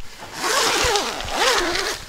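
A tent's curtain zip on a Kampa Dometic Studland 8 Air 2020 inflatable tent is pulled in two long, close, loud sweeps with a brief pause between them.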